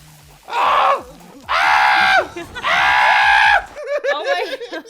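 Animated cartoon characters scream as they burn in a fire, three long, loud, high-pitched wails in quick succession followed by shorter strained cries.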